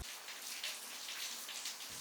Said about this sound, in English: torrential rain in Fuerteventura